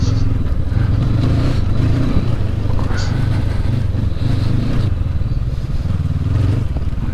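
An off-road motorcycle, a KTM 390 Adventure or a 2019 Honda CB500X, lugs along in too high a gear on Oregon trails, its low engine drone steady and loud with clattering and wind throughout.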